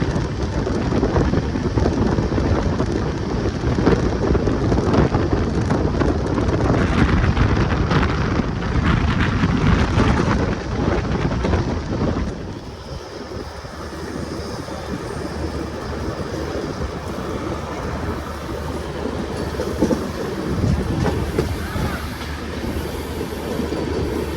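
An express train races fast around a curve on an Indian rail line during a summer special run, a loud, dense rumble with wind buffeting the microphone that drops abruptly about halfway through to a steadier, quieter roll.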